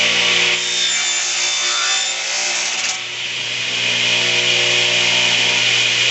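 A saw cuts along a marked line in wood for a bent-lamination wave box, a steady continuous rasping stroke that runs loud and close for the whole span with a faint steady hum beneath it.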